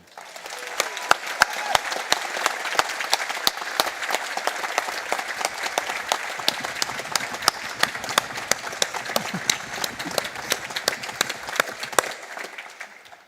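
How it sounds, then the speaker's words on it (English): An audience at an arts university graduation ceremony applauds for about thirteen seconds, with dense steady clapping and distinct close handclaps ringing out over the crowd. "A round of applause, please"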